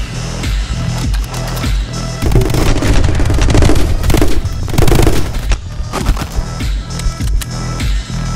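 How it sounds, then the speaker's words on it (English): A grenade launcher fires in the video game My Friend Pedro amid dense, loud rapid gunfire and booming blasts, continuous and chaotic throughout with game music underneath. "Grenade launcher."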